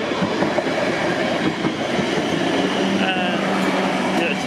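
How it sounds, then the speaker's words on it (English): A Havant to London Waterloo passenger train running past a level crossing, a loud continuous rumble with wheel clatter and faint squeal, close by, with people talking briefly. "There's a Havant 2 London Waterloo train."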